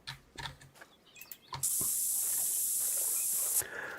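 A scent cover spray in a hunting video game lets out one loud, steady hiss lasting about two seconds, framed by quieter rustling and small mechanical clicks.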